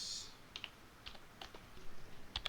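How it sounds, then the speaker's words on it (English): Keys clack on a computer keyboard in a quiet room, a few soft scattered taps and clicks at close range, faint overall and without talking. "Typing ASMR."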